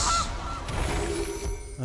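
A goose honks in the MTG Arena card game, a short nasal call near the end following a faint earlier honk, over a steady background bed.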